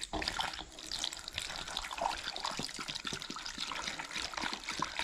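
Water pours from a container into an MM U302 diesel tractor, trickling and splashing steadily close by with uneven gurgles, faint and unbroken throughout.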